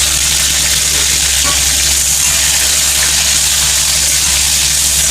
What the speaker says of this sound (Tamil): இதை வதக்கிக்கலாம்.